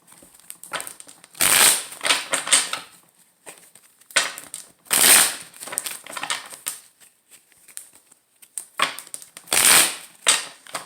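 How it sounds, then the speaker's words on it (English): A deck of playing cards being shuffled by hand, three loud riffle bursts spaced a few seconds apart with softer bridging and tapping of the cards between them, close and clear with no talking. "I need to make sure I shuffle the cards thoroughly, so forgive me for the noise"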